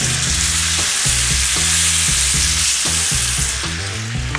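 Marinated Goan-style chicken cafreal fries in soybean oil over a medium flame, a loud, constant close sizzle punctuated by regular scraping and clanking strokes of a utensil in the pan, with no one talking.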